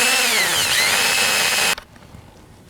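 A drill spins a bit held in a pin vise, boring a clearance hole for a basket-hilt rapier sword part. A loud, close, steady whine with a slight pitch dip runs for under two seconds, then stops abruptly.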